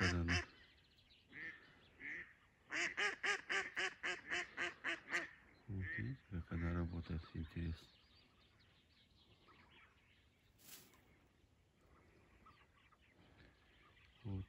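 Rapid runs of quacking from ducks on the water during a spring goose and duck hunt come in dense bursts for several seconds, then give way to quieter, scattered sounds and low background noise.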